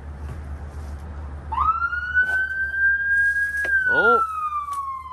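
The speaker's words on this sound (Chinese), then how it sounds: "警察来了啊！ 不是警察，救护车。" An ambulance siren rises and wails on a street in Toronto during tree trimming at a house, a clear tone holding steady over steady background hum, and a person briefly speaks over it.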